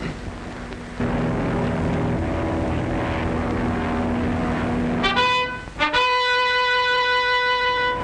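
A propeller airplane drones steadily in flight, loud and close, its engine tone shifting and rising into a sustained whine toward the end.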